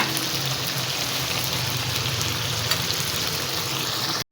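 Chopped green chilies and tomatoes fry in a kadai for a chicken Shinwari karahi, with a steady, dense hiss and sizzle of hot oil that holds constant until an abrupt cutoff.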